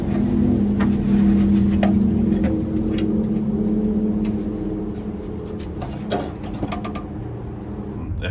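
A Suzuki LJ20 engine runs roughly, a loud low drone that wavers and sags as it struggles. Clanks and mechanical clicks sound near the end.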